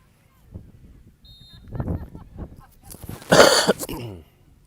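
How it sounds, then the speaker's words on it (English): A single loud, harsh cough bursts right against the microphone after some low rumbling and muffled noise. "That was my cough"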